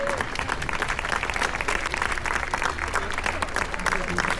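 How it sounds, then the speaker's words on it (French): A crowd applauds at a Breton festival parade, the Festival de Cornouaille grand défilé, with dense continuous clapping and cheering up close, mixed with nearby voices. "On applaudit bien fort nos amis de Saint-Évarzec."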